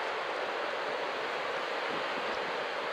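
Ocean waves breaking at Sendai Shinko beach form a steady, dense roar of surf and wind, loud and unbroken throughout with no voices.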